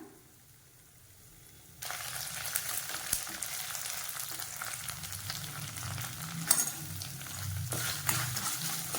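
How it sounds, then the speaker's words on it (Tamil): Sliced onions sizzle and crackle steadily in a hot pan, a loud continuous frying hiss starting abruptly after a quiet moment, with occasional stirring scrapes, while cooking cabbage rice. "வெங்காயம் சேர்த்துட்டு நல்லா வெங்காயத்தும் ஒரு கொஞ்சம் ஒரு அரை பதம் முக்கால் பதம் ரொம்ப வதக்காமல் லைட்டாக வதக்கிக்கலாம்"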